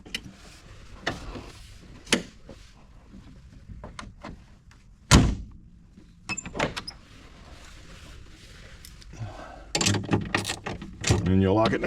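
Car door being shut repeatedly after a plastic-gear window regulator repair, sharp thuds and clunks spread across the stretch with quiet gaps, and a louder mechanical rattle near the end.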